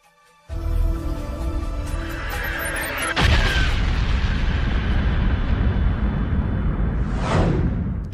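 A cinematic explosion effect depicting the Big Bang bursts in suddenly and swells into a sustained roaring rumble, topped by a second surge and a rising whoosh near the end.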